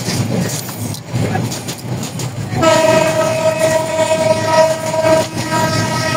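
A passenger train runs on the Chattogram to Cox's Bazar line with a steady loud rumble, and partway through a long sustained horn blast sounds close by over the rolling noise, with faint voices underneath.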